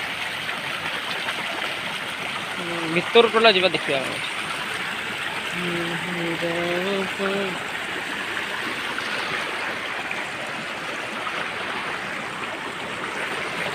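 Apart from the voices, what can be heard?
small waterfall stream flowing in a field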